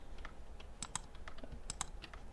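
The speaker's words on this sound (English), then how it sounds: "I'm just going to go ahead and do Control E on my keyboard" Computer keyboard keys pressed during 3D box modelling work, a few soft, close clicks in small irregular bursts, alone against faint room hiss.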